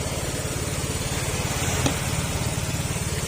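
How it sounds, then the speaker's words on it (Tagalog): A repaired motorcycle engine idles quietly and evenly, a low rhythmic putter with a steady pulse and no knocking, heard close up and alone for a few seconds. "Tahimik ka tahimik na yung makina niya mga sir."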